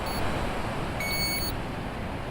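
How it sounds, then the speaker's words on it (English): A fishing drone beeping once a fully charged battery is fitted, two short high electronic tones over a constant background hiss and hum, the second tone a little longer. "and wait for the beeps."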